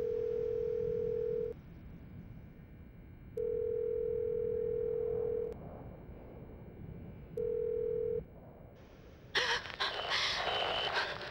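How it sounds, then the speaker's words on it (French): A phone dial tone in the video game Silent Hill: Shattered Memories sounds in three steady beeps of differing length over a low hum of background noise, followed by a brief burst of louder static-like game sound at the end. "On peut appeler la maison. Appelons la maison."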